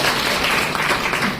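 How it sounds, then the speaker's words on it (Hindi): A lecture audience in a Hindi talk breaks into applause, a loud, dense wash of clapping that fills the short moment without pause. "पहुंची तो तालियां तो बजा दो"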